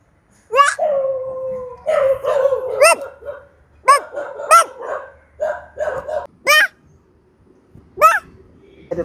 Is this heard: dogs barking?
yes